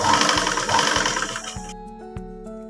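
Sewing machine stitching a black and white fabric strip for a pencil pouch, running in a brisk, steady whirring and tapping rhythm up close, then slowing to a few separate thumps as it stops, with no voices.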